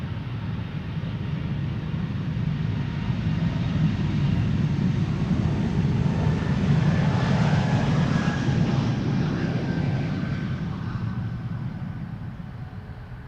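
An airliner, flight 618 to Riga, departs Amsterdam Schiphol as a steady, broad jet roar that swells gradually, peaks midway and then fades slightly, continuous and distant with no talking.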